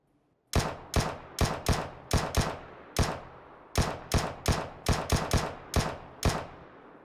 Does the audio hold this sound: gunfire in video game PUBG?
yes